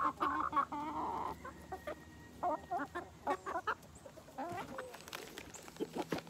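Silkie chickens cluck in a series of short, close calls in varied bursts, with other fowl and farmyard background behind them.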